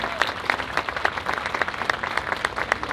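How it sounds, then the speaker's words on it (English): A crowd applauds steadily after a national anthem performance at an outdoor opening ceremony at Baltimore's Inner Harbor, with dense, continuous clapping that holds even in level throughout. "one more big round of applause for the national anthem"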